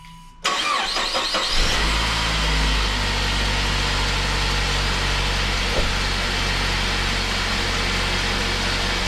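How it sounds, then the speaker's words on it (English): A Saab car engine fitted with new spark plugs and a new serpentine belt cranks and fires up, then settles into a loud, steady, close idle with a constant low rumble and no talking. "I'm going to turn the car on. It's the first start with the new plugs and new serpentine belt."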